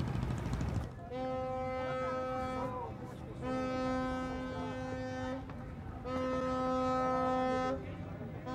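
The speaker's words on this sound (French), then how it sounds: "Le H-37, un bâtiment de la marine brésilienne à bord duquel se trouve la statue de Notre-Dame de Nazaré, se met en marche" Deep blasts of a Brazilian navy ship's horn as the vessel sets off at the head of a river boat procession, three long sustained tones with short gaps, loud and close over steady outdoor wind and engine noise.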